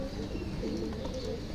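Breeder pigeons coo softly and continuously at close range, overlapping low rolling calls with a faint flutter of background noise.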